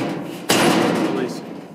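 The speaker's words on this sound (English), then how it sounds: "Push it down, latches back, smash this down" The steel bed of a GroundWork dump cart is pushed down and latches with one sharp, close metallic thud, followed by a short ringing decay and a voice talking over it.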